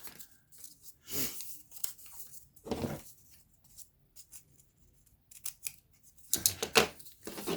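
Scissors snip through paper while a journal is trimmed, giving three or four distinct crisp cutting strokes spaced a few seconds apart with faint rustling between them, close up and alone.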